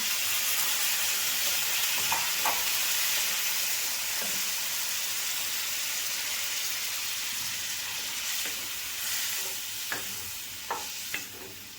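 Water poured over potatoes and spice masala frying in a pan, a loud continuous steamy hiss and sizzle with occasional clinks of the spoon, heard alone.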